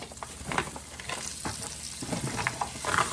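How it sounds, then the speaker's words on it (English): Onions sautéing in a big Dutch oven in rendered pork sausage fat for a chicken and sausage jambalaya, a quiet steady sizzle broken by scraping stirs and small crackling pops, close and without talk. "saute the onions"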